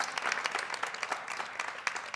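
Studio audience clapping in a short, brisk burst of many hands, fairly quiet and distant-sounding, with no talk over it.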